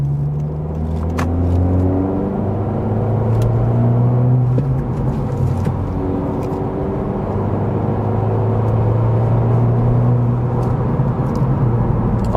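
Honda Civic Si sedan engine heard from inside the cabin while driving, a steady loud rumble with rising and falling rev tones as it shifts and accelerates, no talking.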